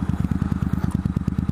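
A Harley motorcycle engine runs close while being ridden, giving a steady, loud, rapid loping thump with a rough rumble underneath and no voices.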